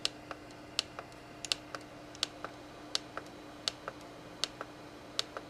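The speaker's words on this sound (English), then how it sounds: "using the arrow keys, I come down to highlight this line here" Arrow keys on a keypad clicked one at a time in an irregular, unhurried rhythm, with crisp, close taps over a quiet room and no voices.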